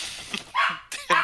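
A dog barks several times in quick, close bursts, with short yelps between them, heard during a Harry Potter 4 PC co-op speedrun session with game audio behind it.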